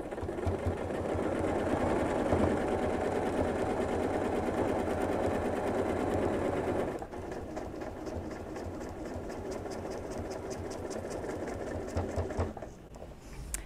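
Quilting straight lines along a Slim Ruler, a sewing machine hums continuously and close for over twelve seconds, its whir changing pitch and texture partway through, then slowing and stopping near the end.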